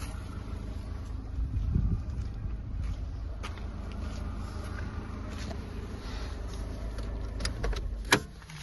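Skoda Fabia petrol/LPG car from Germany with a 63 kW engine idles steadily, a low continuous hum heard close by, with a brief knock near the end.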